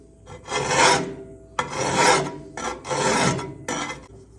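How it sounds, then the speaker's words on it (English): Four rhythmic rasping strokes of a file's curved edge drawn across the curved edge of a metal digging tool, close and loud, with short gaps between passes. "I'm going to use the curved edge of this file"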